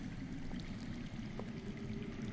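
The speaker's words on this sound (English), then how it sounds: "That's water. I hear water. From underground?" Water flows from underground in a video game, a faint, steady rushing and pouring that holds without break under a low ambient rumble.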